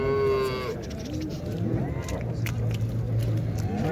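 Cattle lowing at a busy livestock market in Şarkışla, with a few drawn-out moos over a murmur of crowd noise, voices and general background bustle.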